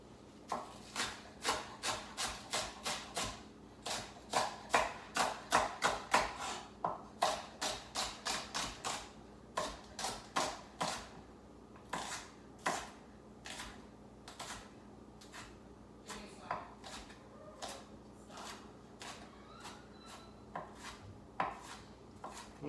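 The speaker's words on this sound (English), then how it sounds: "So let's cut our scallions down." A knife chops scallions on a cutting board in a home kitchen, with quick, close, crisp taps coming in rhythmic bursts and short pauses between runs.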